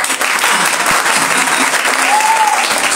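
Applause from a crowd at an evening gathering, a loud, dense, continuous roar of clapping hands that holds steady throughout, with a brief whoop near the end.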